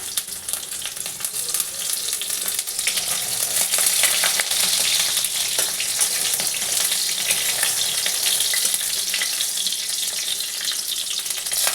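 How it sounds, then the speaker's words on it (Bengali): Onions frying in oil in a pan for an egg curry, giving a steady, close, dense sizzle with occasional stirring scrapes and no talking. "পেঁয়াজটা বন্ধুরা একটু ভালো করে আমি ভেজে নিই।"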